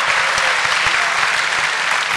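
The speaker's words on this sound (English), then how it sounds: "Give him a freaking round of applause, guys." An audience at a Q&A session gives a loud, steady round of applause, dense clapping filling the whole stretch.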